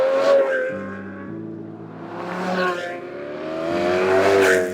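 Supercars with Capristo exhausts, including V12s, driving in convoy, their engines droning and rising in loud revving swells that climb and fall, with no talk.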